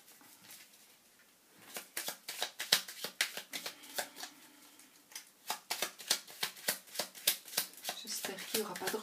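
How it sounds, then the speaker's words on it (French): A deck of oracle cards is shuffled by hand in rapid, crisp riffling flicks, close and fairly quiet, building into a steady run of snaps. "Alors je mélange mes cartes."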